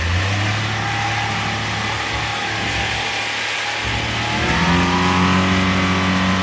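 A motor boat engine starting up for a ride through the Bichitrapur mangroves, a steady loud rumbling drone that rises in pitch and power near the end as the boat gets moving.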